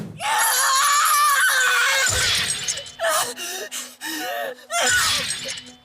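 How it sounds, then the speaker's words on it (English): Yamato, a character in the One Piece anime, lets out a long, loud, anguished scream, breaking off around the two-second mark and returning in several shorter strained cries and gasps, with high sharp noise layered over the voice. "This is Yamato screaming and breaking my heart"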